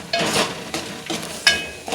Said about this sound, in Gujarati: જો દહીં વઘારીએ છીએ